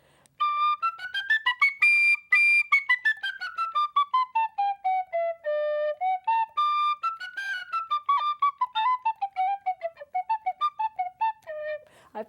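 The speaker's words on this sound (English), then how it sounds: "This is a penny whistle" A penny whistle plays a clear, solo melody in the two-octave range. Sliding, articulated notes move up and down in a steady phrase for about twelve seconds, close and alone with no talk over it.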